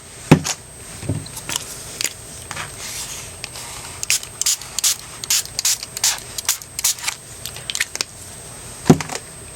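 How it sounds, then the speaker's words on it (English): Short hissing bursts from a spray bottle spraying ink colors onto an art journal page repeat in an irregular series, close by, with a faint steady high whine underneath and small mechanical clicks between sprays. "I'm just going to start to spray colors on here."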